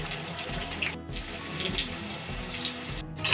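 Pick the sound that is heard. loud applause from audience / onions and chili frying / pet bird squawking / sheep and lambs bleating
onions and chili frying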